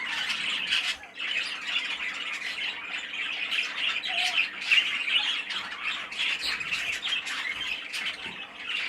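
Young birds in a show cage squawk and chirp continuously nearby, harsh repeated calls overlapping in a busy, nervous chatter.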